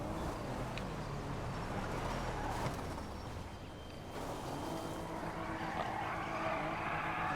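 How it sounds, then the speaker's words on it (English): Distant, continuous engine roar with a drawn-out tire squeal from a car doing a burnout in Grand Theft Auto V, steady and muffled with no speech. "Someone was doing a burnout somewhere."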